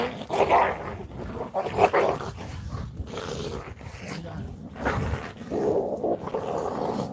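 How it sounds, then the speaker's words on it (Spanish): Dogs snarl and growl fiercely in a close scuffle, rough guttural noises rising and falling in bursts over several seconds. "Mirad los perros, es que se matan"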